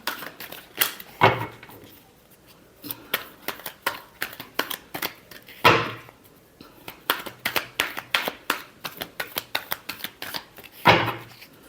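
Playing cards shuffled again and again by hand during a tarot-style love reading, a run of quick crisp riffles and snaps, close and fairly clear, with several louder bursts and no talking.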